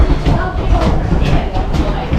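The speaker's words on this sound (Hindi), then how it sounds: "तो भाई अपनी ट्रेन आ चुकी है बम्बू फॉरेस्ट के लिए।" A local train pulls into a Kyoto station on a line toward the bamboo forest, a steady rumbling rolling noise with faint rail clatter, continuous throughout, mixed with station ambience.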